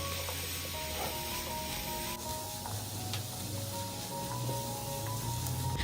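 A spiced mixture sizzles steadily in a pan as it is stirred, a dense continuous frying hiss with occasional scrapes and soft knocks, close and fairly loud throughout.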